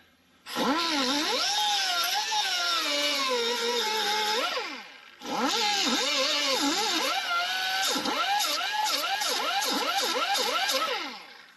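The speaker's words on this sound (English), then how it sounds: "I'm going to grind that down a little bit so that I'm sure I can get in there straight" A grinder works a part on a 1930 Ford Model A engine, giving a loud, continuous whine that rises and falls in pitch as it bites. It cuts out briefly midway, then resumes with quicker pitch swings.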